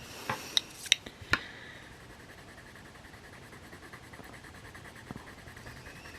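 Evazar coloured pencils scratch across paper during colouring, a few sharp taps and short strokes near the start followed by a faint, soft scraping that continues quietly, close up and without speech.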